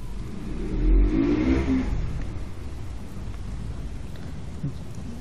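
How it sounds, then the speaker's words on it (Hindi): Heavy rain pours in Uncharted: The Lost Legacy as a steady, dense hiss, with a low rumbling swell near the start that fades back into the continuous downpour. "बहुत तेज बारिश हो रही है दोस्तों।"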